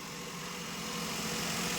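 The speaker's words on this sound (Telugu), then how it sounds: "నేను ఇప్పుడు బండి స్టార్ట్ చేసి చూపిస్తాను, మీరు చూడండి." A 2011 Maruti Suzuki WagonR VXI sits idling with a steady, faint, even engine hum that holds level throughout and has no clear start-up crank.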